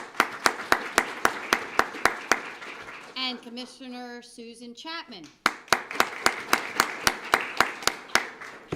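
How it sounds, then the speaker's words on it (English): Sharp, evenly spaced claps ring out at a police swearing-in and promotional ceremony, pausing for a brief spoken introduction in the middle before resuming just as crisply. "Let's give her a round of applause."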